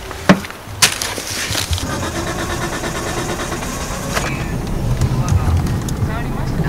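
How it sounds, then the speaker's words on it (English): A retro Japanese car's engine is started, with a couple of sharp clicks and a cranking burst before the motor catches and settles into a steady, rough, close idle that runs on to the end. "I'm literally gonna go inside and start it."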